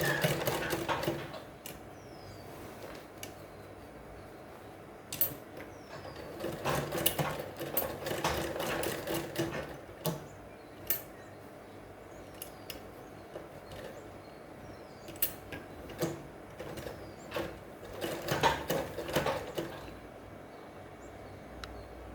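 A sewing machine stitches around a shirt collar on a school uniform shirt, running in several loud bursts of rapid mechanical clatter separated by short pauses over about twenty seconds, with no talking.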